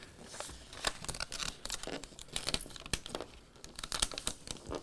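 Cricut transfer tape peels back from a sticker decal in a series of close, crinkly, crackling pulls and tears, fairly quiet and irregular.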